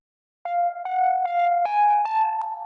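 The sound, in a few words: plain sine wave synthesizer tone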